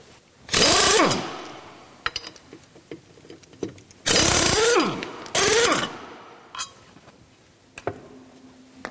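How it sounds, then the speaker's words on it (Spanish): Impact wrench removing car wheel bolts during a brake pad change, two loud close bursts of rattling hammering that wind down, separated by quieter clicks and clinks of tools and parts. "Podemos usar la pistola para desmontar los tornillos, pero no para montarlos."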